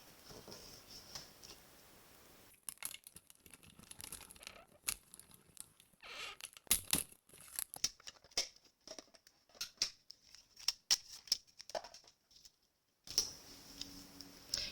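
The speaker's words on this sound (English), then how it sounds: "I am using a piece of Post-it tape just to hold that in place" Post-it tape is torn and pressed onto a cardstock Christmas card, heard as quiet close tearing, crinkling and tapping sounds in short irregular bursts.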